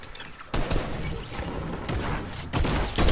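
Rapid gunfire from a no-scope sniper shot in an online shooter video game, dense loud bursts and booms filling the clip without pause, with a sharp jump in level near the end.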